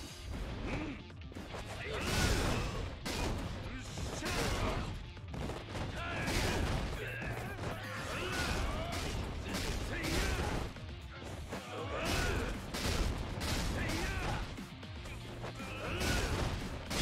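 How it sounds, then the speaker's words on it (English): Yakuza Kiwami combat with dense, repeated gunshots and crashing impacts, loud and near, continuing in clustered bursts along with other fight noise. "Now shooting's getting real."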